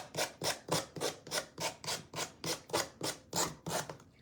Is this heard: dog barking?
no